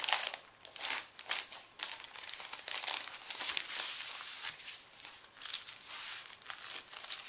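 Small paper bags from a junk journal kit crinkle and rustle in steady, close bursts for several seconds, loud crisp crackles with brief pauses between handling and no voices.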